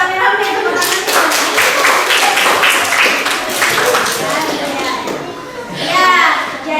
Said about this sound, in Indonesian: Ayo rame-rame tepuk tangan.